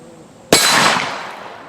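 A Magnum full metal jacket round from a 6-inch barrel strikes an aluminum armor plate: one sharp, loud impact crack with a metallic ring that decays over about a second, with no talk.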